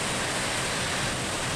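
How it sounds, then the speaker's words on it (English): Silver Creek Falls, a big waterfall with a smaller one alongside, plunges to the creek below in a steady, loud, broadband roar that fills the whole moment without a break. "There's one big waterfall and then a little one alongside it as it plunges down to the creek below."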